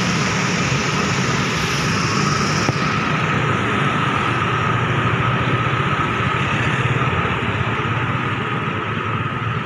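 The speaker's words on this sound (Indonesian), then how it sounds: "suasana kendaraan depan stasiun Jatinegara jam 8 pagi" Steady road traffic at 8 a.m. in front of Jatinegara station in East Jakarta, Indonesia, a continuous dense rumble of engines and idling motors with no breaks, loud and close throughout.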